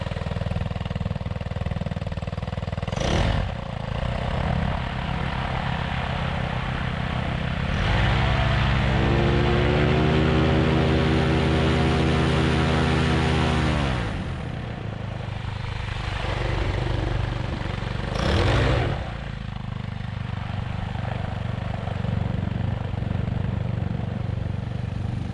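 Bailey SuperLite 210cc 4-stroke paramotor engine running on the ground with a steady buzzing drone. Partway through it revs up to a louder, higher whine, then drops back to idle, and brief gusty bursts come and go.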